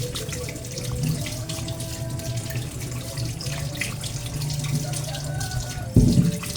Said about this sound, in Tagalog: Kaya mga kalangga, hinugasan ko yung gabi mga kalangga.